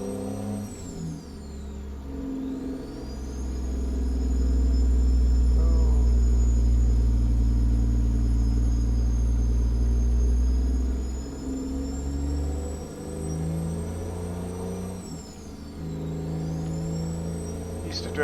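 Hopped-up truck engine in American Truck Simulator, a Peterbilt 389 hauling from Carson City toward Sacramento, rumbles steadily, swelling to a loud low roar midway, then settling back; faint chime tones sit above it and no one speaks.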